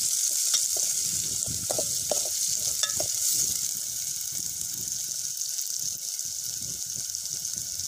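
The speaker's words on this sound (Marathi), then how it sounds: "तळून घ्यायचं आहे म्हणजे मऊसर होतं." Chopped onion and potato frying in oil in a pan at an outdoor farm cooking spot, a steady close sizzle with occasional stirring scrapes and clinks, no talking.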